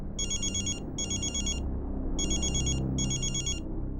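A telephone rings in four electronic bursts, two close together, a pause, then two more, loud and near over a low background hum.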